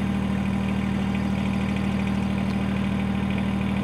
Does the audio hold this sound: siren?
no